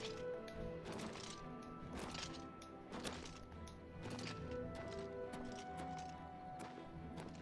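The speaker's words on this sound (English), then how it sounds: "He's just on a horse." Horse hooves clopping in Oblivion Remastered, a continuous rhythmic clatter of steps, moderately close and fairly quiet.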